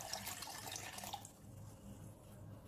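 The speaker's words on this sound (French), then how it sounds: "Je mélange d'abord le sel et l'eau." Salt stirred into water for homemade preserved olives with chili and lemon, a continuous close swishing and sloshing of liquid that eases off halfway through, with no talk.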